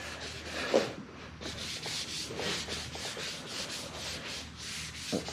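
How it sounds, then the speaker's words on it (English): Steady rubbing and wiping of a cloth soaked in wax and grease remover over a repaired body part on a salvaged Mini Cooper, a continuous close scrubbing texture with a couple of small knocks and no talk. "just wipe the whole thing down with wax and grease remover"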